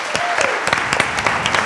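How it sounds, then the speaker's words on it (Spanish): Steady applause from a conference audience for a panel of speakers, dense and continuous clapping with sharp individual claps popping through for under two seconds. "Yo quiero que le den un aplauso a estos panelistas."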